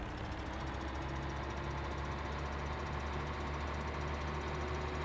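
A vehicle engine idles in Landwirtschafts-Simulator 17, a quiet, steady low rumble with a constant drone and faint regular knocking that barely changes from start to finish, with no talk.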